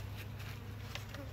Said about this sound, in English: And you'll see the bees right there.